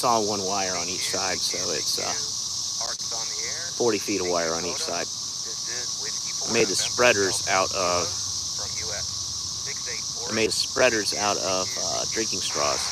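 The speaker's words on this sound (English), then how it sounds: "A lot of cicadas out here." Cicadas buzz outdoors as a steady high-pitched drone running underneath someone talking throughout.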